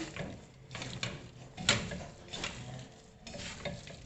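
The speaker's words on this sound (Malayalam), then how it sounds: "കുക്കറിൽ വെച്ച് തന്നെ ഇതെല്ലാം കൂടി നന്നായിട്ടൊന്ന് മിക്സ് ചെയ്ത് കൊടുക്കുകയാണ്" A spoon scrapes and stirs beef in a metal pressure cooker, a few irregular scraping strokes and one sharp clink, close and quiet.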